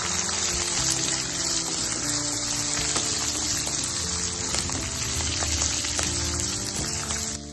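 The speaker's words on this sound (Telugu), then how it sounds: "2 స్పూన్ల మినప్పప్పు, 2 స్పూన్ల శనగబేడలు వేసి వేయించేసుకోవాలి." Urad dal, chana dal, dried red chillies and split green chillies fry in a pan, giving a steady, loud, continuous sizzle and crackle with no pauses and no one talking.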